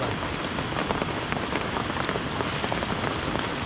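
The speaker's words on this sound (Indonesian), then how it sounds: "Kayak jauh hujan." Heavy rain falls steadily in a forest, a dense, constant hiss of drops striking leaves and ground, loud and close with no voices.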